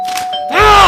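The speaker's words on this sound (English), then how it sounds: "The doorbell keeps ringing, but there's no one there." A doorbell sounds once, a short close chime that swells into a loud ring at the end.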